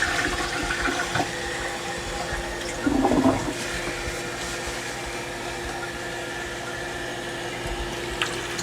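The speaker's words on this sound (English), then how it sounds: "To the toilet and flush." Toilet flushing in a care setting: a continuous rushing, gurgling swirl of water with a brief louder surge partway through, then a steady refill hiss that runs to the end.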